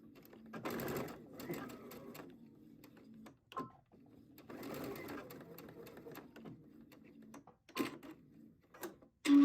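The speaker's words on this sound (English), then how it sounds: "I'm going to take my elastic, and I'm just going to sew it on about 1/8 of an inch in." Sewing machine stitching elastic onto a sleep mask, running in two bursts of a few seconds each with short pauses and small clicks between, close and moderately loud.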